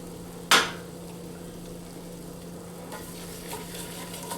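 A sharp clatter of a utensil against a pan, then a steady low sizzle of flour cooking gently in a pan on low heat.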